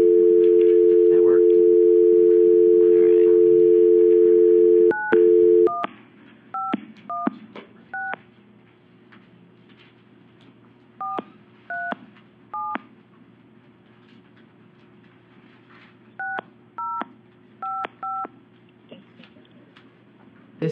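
A continuous telephone dial tone cuts off, then a series of dual-tone keypad beeps sounds in short clusters as a number is dialed for a call into a committee meeting, with faint line hiss between tones.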